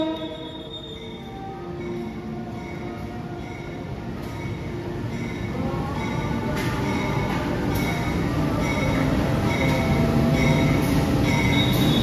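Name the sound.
passenger train passing on rails at station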